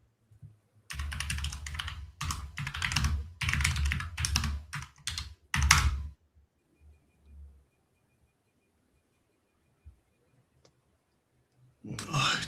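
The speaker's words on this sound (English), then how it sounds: "my typing is terrible" Rapid typing on a computer keyboard, close and crisp, in clustered bursts of clicks for several seconds, then near silence with a few isolated taps before another short burst.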